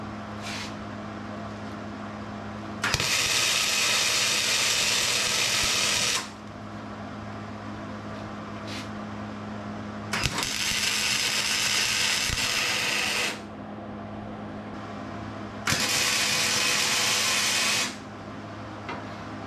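Tack welds laid upside down under a car's cross member during a custom 4-link and coilover build: three loud bursts of broadband crackling hiss, each about three seconds long, separated by quieter gaps with a steady low hum.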